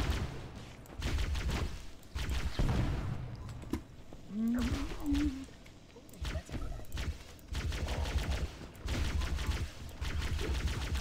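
Plasma rifle firing in Halo: Combat Evolved inside the Library level, bursts of rapid energy shots that stop and start, mixed with roaring creature cries and game effects.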